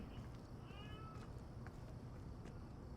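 A cat meows in the game Life is Strange 2, a short, faint mewing call riding over a constant low background rumble.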